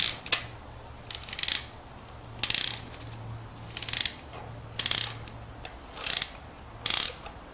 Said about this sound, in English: Looks like there's a wind up right here, so what we'll do is we'll just wind this up